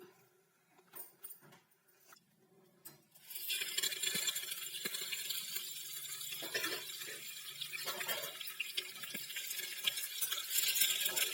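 Curry leaves hit hot oil for a bitter gourd pachadi tempering, starting with a few faint clinks and stirs before a loud, steady crackling sizzle takes over and continues with occasional spatters.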